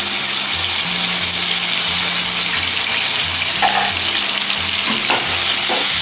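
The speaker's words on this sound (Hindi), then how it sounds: "स्लो फ्लेम पे भी इसको 25-30 सेकेंड इसको भी हमें फ्राई करना है।" Close, continuous sizzling of ginger-garlic paste mixed with a little water frying in a pan over a low flame, with a steady hiss and a faint low hum underneath.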